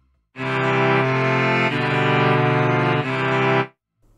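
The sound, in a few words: chord progression cadence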